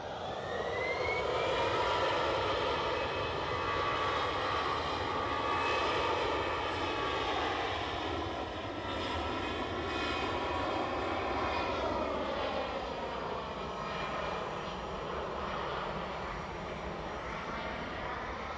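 A business jet taxiing at Edinburgh Airport sends out a steady jet engine whine and rumble, fairly distant and faint. The pitch shifts slowly as it moves, and no one speaks.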